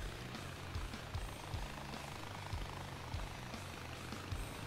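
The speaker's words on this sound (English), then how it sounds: "Except when you have a helicopter." A helicopter in the video game Far Cry 4 gives off a steady, low rotor drone with a faint rhythmic chop, heard continuously and fairly quietly with no voices over it.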